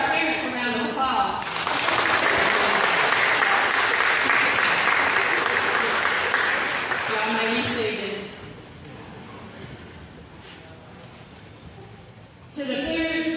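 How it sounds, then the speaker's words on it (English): Audience applause for parents at a pre-K ceremony, a loud, steady wave of clapping lasting several seconds before fading, with talk around it. "Let's give our parents a round of applause."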